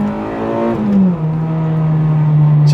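A Honda with a K24 engine swap accelerating hard through its gears, with a loud, close engine note climbing in pitch, a quick upshift, then a steady pull at high revs.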